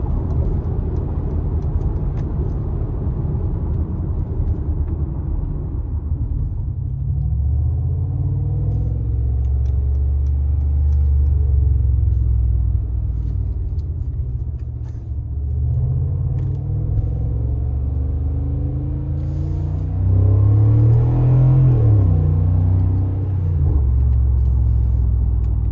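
A 2021 Brabus WideStar Mercedes-Benz G550 on 24-inch wheels cruises in sport mode, giving a steady close engine and road rumble that swells slightly near the end, with no talking.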